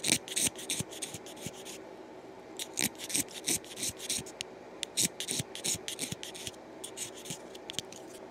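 Soaked cane oboe reeds scraped with a knife, close and fairly quiet, in quick bursts of rasping strokes with short pauses between them.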